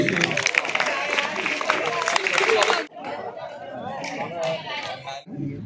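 Audience applause at a school prize distribution ceremony, loud dense clapping with crowd chatter for about three seconds, then fading into softer scattered claps and murmuring voices.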